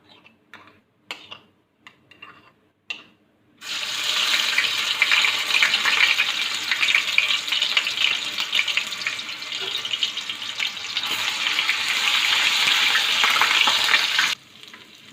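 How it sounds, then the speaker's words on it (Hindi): A few sharp clatters, then a loud, steady sizzle of ginger and garlic frying in hot oil crackles for about ten seconds before stopping suddenly. "अदरक लहसुन हमने भून लिया है"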